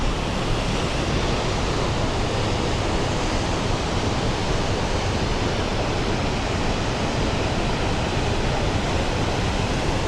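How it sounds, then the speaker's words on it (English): Waterfall spray on the Mist Trail in Yosemite, a loud, unbroken roar of rushing water and mist that stays constant for ten seconds, with no voices. "we're going to get hit by the spray from the waterfall"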